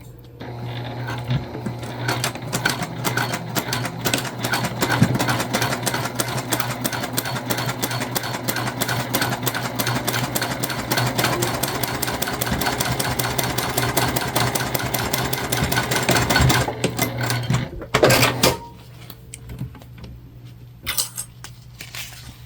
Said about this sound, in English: We're going to sew at about a 1/4 inch seam allowance.